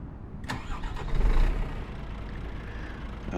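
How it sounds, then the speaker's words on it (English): Truck engine in Euro Truck Simulator 2 cranking and catching at about half a second, swelling to a loud rumble around one to one and a half seconds, then settling into a steady idle with no voices. "let's get the engine fired up"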